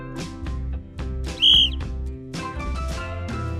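A single sharp, shrill referee whistle blast cuts through mid-clip over a steady low musical backing with rhythmic beats.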